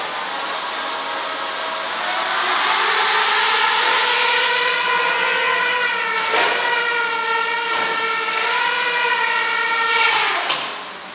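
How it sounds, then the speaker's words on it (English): Skyartec Butterfly brushless 6-axis gyro RC UFO with its blades spinning on the ground, a steady close whirring whine whose pitch rises and wavers with throttle changes, continuous and without talk. "you see the blades are turning and it's ready for flight"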